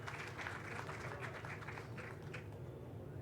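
An audience claps at a gathering about silk farming, a dense, steady patter of many hands heard at a distance and fairly faint throughout.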